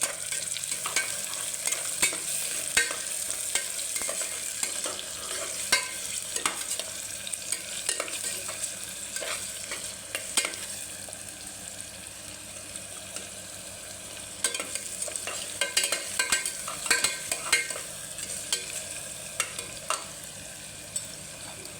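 Cowpea curry sizzling in a frying pan while it is stirred and mixed, with a steady crackle of frying and repeated scraping strokes from a spoon, close and continuous with no voices.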